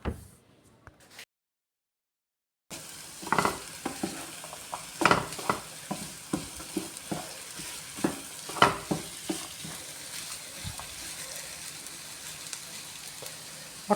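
Egg peas masala stirred in a frying pan: steady sizzling with repeated scraping and clinking strokes of a spoon against the pan, close and fairly loud after a brief silent gap at the start.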